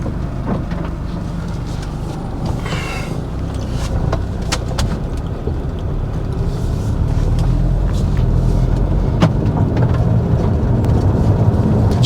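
An Audi TTS Mk2 (8J) drives along a road, heard from inside as a steady, loud low rumble of engine and tyre noise that builds slightly partway through, with faint scattered knocks and no talking.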